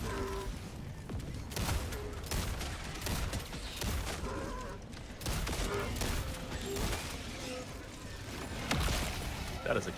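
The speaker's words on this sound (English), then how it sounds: "That is a Gatling sentry that is" Rapid bursts of Gatling sentry fire in the Helldivers 2 video game against bugs, with dense, repeated gunfire crackling throughout under ongoing voice chat talk.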